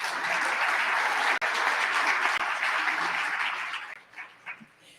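An audience at an annual meeting applauds in a broad, sustained clapping sound that tapers off toward the end, with a few scattered sharp sounds as it dies away.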